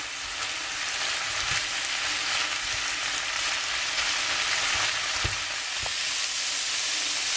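Meat browns in a pan with a dense, even sizzle throughout and a couple of faint utensil knocks, heard alone and close.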